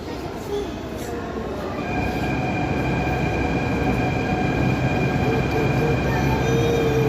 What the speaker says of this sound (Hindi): मेट्रो आ रही है